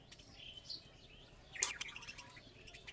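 Budgerigars in a breeding setup with nesting pots give faint, scattered chirps and tweets, a brief louder call in the middle, against a quiet background.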